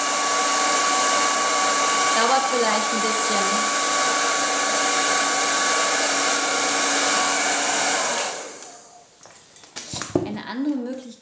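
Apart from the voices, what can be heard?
hair dryer blowing to dry a face mask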